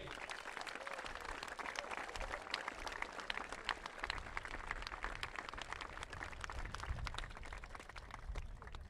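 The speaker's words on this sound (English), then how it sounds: "I'd love everyone to give him a round of applause as well" Crowd applause at a college football game between Wisconsin-La Crosse and Dakota State, honoring Denny Sanford: dense, sustained clapping from a stadium audience, moderately distant and even in level throughout.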